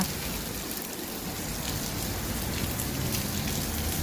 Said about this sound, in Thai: ฝนตกแรงมากเลยค่ะ